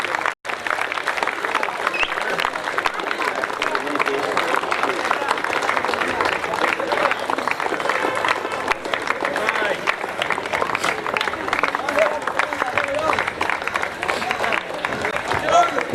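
A large crowd applauds loudly and steadily for sixteen seconds to welcome Vasant Shetty, a sixth-degree karate black belt, at an outdoor ceremony after the GPL final at the DSC ground, with a murmur of voices under the clapping.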